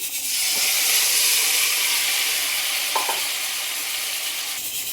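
Prawns hit hot oil in a kadai and set off a loud, dense sizzling hiss that holds steady for several seconds, with a brief metallic clink partway through and no talking.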